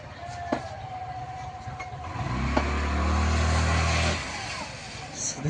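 A pickup truck engine revs up and holds a loud, low droning roar for a couple of seconds before dropping off, while the rear wheel spins. Outdoor noise surrounds it and a voice is faintly audible.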